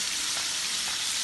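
Sweet and spicy chicken wings fry in hot oil, a steady dense sizzle and crackle running without break at moderate level, with no clear flipping knock standing out.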